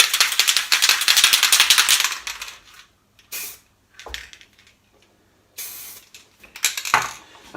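Spray paint cans spraying for hydro dipping a mountain bike helmet: a long loud hiss at first, then several shorter bursts of spray separated by gaps, all close and without talk.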